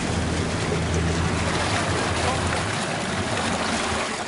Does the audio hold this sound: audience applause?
no